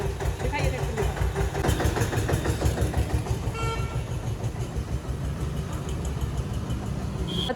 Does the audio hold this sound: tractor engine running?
yes